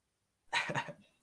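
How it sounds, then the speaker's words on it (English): A single short, close cough from a man bursts out after silence and trails off quickly. "I apologize for me coughing all night on camera."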